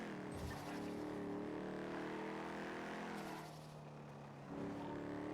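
A vehicle drives in the NoPixel GTA video game, heard as a continuous engine drone with a steady hum and brief dips where the revs drop, faint and sustained throughout.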